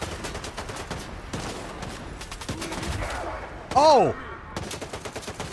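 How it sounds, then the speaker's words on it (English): Video game gunfire, repeated sharp shots and rapid bursts spread across the clip at mid distance, with a brief exclaiming voice and some talk over it. "What are they shooting at?"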